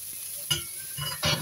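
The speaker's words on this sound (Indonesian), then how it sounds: "kita masukkan yaitu lobak putihnya. Kita tumis sampai lembek ya teman-teman ya." White radish sautéing in a pan, a faint sizzle broken by two or three short scraping strokes of a utensil, close up and quiet, with no voices.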